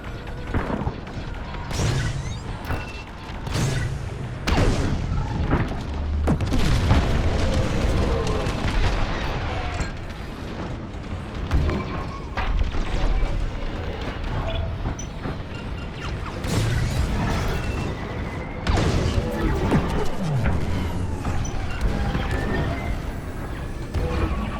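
A starfighter in Star Wars: Squadrons comes under heavy fire, with a sustained barrage of blasts, explosions and crashing impacts over a constant engine roar. The sound stays loud and chaotic throughout, with repeated booming hits.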